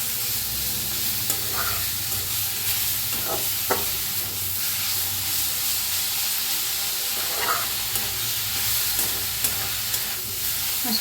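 Vegetables with desi garlic stirred in a pan over lowered gas, a steady close sizzle and hiss of frying with occasional scraping stir strokes throughout.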